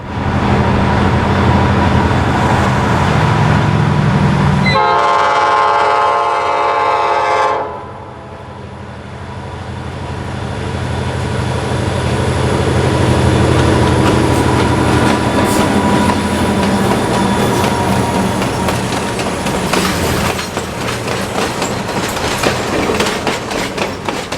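A Conway Scenic Railroad train led by an old high-hood diesel rumbles past close by under Route 302 at Cook's Crossing, a loud horn blast early on, then steady wheel clatter as the cars roll through.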